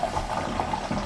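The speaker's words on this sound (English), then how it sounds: "the fill line, which is all of this going over to the tank. You can hear it filling." Water running through the fill line into the tank of a converted school bus, a steady gurgling, bubbling flow heard close and at moderate level.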